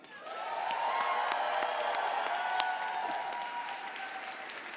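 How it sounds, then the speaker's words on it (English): An audience at the Gayming Awards 2022 breaks into loud, sustained applause that swells quickly, holds for several seconds with a few cheers and whoops, then tapers slightly. "Please, everyone, give it up for the wonderful Julia Hardy."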